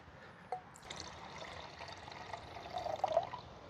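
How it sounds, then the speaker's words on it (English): Water is poured into the pot of a Firemaple X1 Pro camping stove, a soft splash followed by a steady trickle that swells and gurgles toward the end, close and quiet. "let's get our water in there and get our boil test going"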